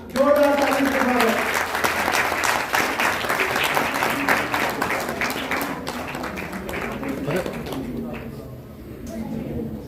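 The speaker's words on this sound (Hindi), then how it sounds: "गैला पहलवान जी, जोरदार ताली से स्वागत।" A large gathering of journalists claps loudly to welcome the wrestler Gyala Pehlwan, dense applause that starts strong and slowly thins, with voices heard through it.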